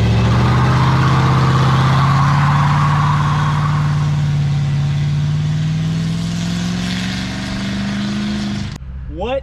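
A Dodge Monaco, parked for 34 years, runs loud and close with its engine droning steadily and pitch slowly rising as it accelerates, then cutting off abruptly near the end.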